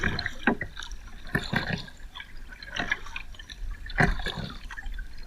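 River water flows and trickles nearby with irregular drips and splashes over a steady gurgling wash, moderately loud with no voices.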